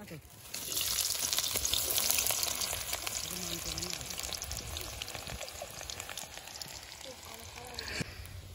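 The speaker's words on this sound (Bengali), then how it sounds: "আমরা পেঁয়াজটা ভাজার পর আগে মাংস দিয়ে নিলাম" Onions and meat fry in oil at an outdoor picnic, crackling and sizzling steadily with stirring scrapes throughout, while faint voices murmur in the background.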